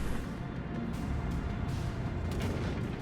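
Continuous heavy booming rumble of naval cannon fire from the warship Fuso in a video game, repeated blasts layered over a dense roar, no clear gaps between shots.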